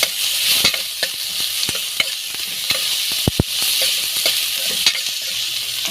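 Ginger garlic paste sautéing with onion in a hot pan: a steady, close sizzle and frying hiss with frequent spoon scrapes and stirring clicks, including a couple of sharper knocks midway.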